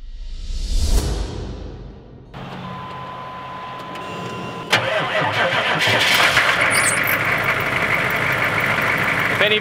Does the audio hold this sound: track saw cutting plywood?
no